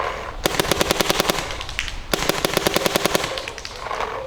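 A Dye DLS paintball marker with a V2 bolt fires two rapid bursts of sharp, evenly spaced pops close by, each volley running about a second and a half with a brief gap between.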